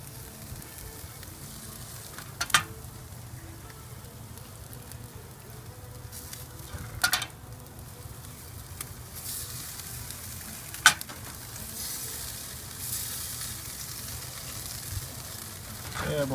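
Pork ribeyes sizzle on a backyard barbecue grill while barbecue sauce is brushed on: a steady, faint crackling sizzle broken by a few soft clicks and taps.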